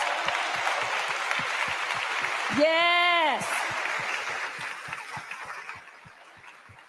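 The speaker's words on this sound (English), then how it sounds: "give him a round of applause." An audience at a Martin Luther King Jr. Day celebration breaks into steady applause that fills the whole stretch, with a person's voice calling out briefly partway through.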